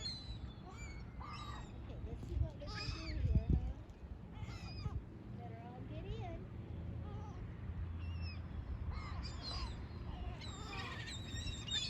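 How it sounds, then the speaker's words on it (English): Flock of seagulls calling while being fed near a boat, with repeated shrill, wavering cries near and far over a steady low rumble, and brief talk in between. "This one was feeding all these seagulls."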